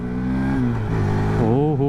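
A Hero Xtreme 160R 4V, a 160cc four-valve motorcycle, pulls away in first gear with a loud, steady engine drone up close. The pitch climbs and wavers toward the end as it revs.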